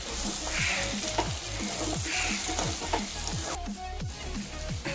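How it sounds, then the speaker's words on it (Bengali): Chicken pieces with capsicum and chopped green chillies sizzle in oil in a pan over low to medium heat, a steady frying hiss broken by repeated scraping stir strokes throughout, with no one speaking. "ক্যাপসিকাম দেওয়ার পর চিকেনটা আরও 10 মিনিট লো টু মিডিয়াম হিটে কষিয়ে নিচ্ছি"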